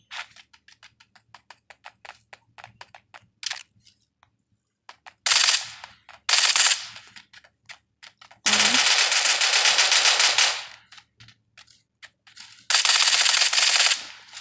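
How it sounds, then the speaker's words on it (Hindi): Gunfire in the video game Badlanders: bursts of rapid automatic shots with long sustained volleys, following scattered single shots. The shots are loud and close. "फायरिंग कर रही है"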